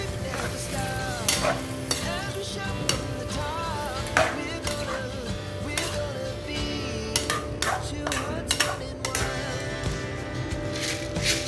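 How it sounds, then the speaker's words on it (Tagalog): Chicken for Filipino chicken adobo is stirred in a sizzling pan, with a continuous close frying hiss broken by frequent clacks and scrapes of a utensil against the pan in irregular bursts. "ngayon po ay haluin natin siya"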